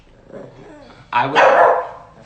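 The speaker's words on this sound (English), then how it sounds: "I don't know why they're barking" Dogs bark indoors in a loud, close burst of a couple of sharp barks after a quieter stretch of soft voice and faint yips.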